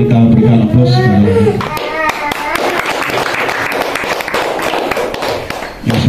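An audience at a school assembly claps in a dense burst of applause that swells and then fades, loud and close, following a voice speaking at the start.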